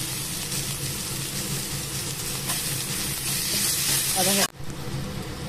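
Onions and tomatoes sauté in oil for a chicken gravy, giving a steady close sizzle with scraping stir sounds, cut off abruptly near the end, with faint talking underneath.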